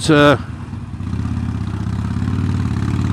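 Motorbike engine running steadily while riding in winter, a continuous low rumbling drone close to the mic after a brief loud burst at the start.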